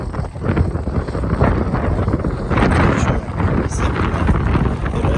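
Loud, gusty wind roars and buffets the microphone continuously, swelling stronger midway, blowing dust beside an MTZ 1025 tractor in a field during fertilizer spreading, with a dry rushing hiss over the low rumble.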